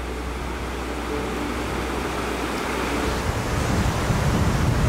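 A river rushes beneath a bridge in Mount Rainier National Park, a steady, loud broadband roar of flowing water that swells slightly toward the end, with no voices.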